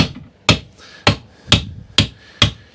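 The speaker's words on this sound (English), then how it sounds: "And now with a decent sized hammer," A decent-sized hammer bangs a bearing out of its housing: six sharp metallic blows land close up at a steady rhythm about half a second apart, each ringing briefly before the next, with no talking.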